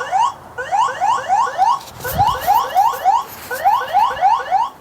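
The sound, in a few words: security camera siren alarm, 120 decibels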